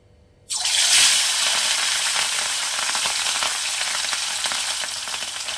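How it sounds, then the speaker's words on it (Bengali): Fish drops into hot mustard oil in a small wok and at once sets off a loud, close, continuous sizzle that holds steady, with no talking. "এখানে তেল গরম হয়ে গেছে, আমি মাছগুলো আস্তে আস্তে ভেজে নেব।"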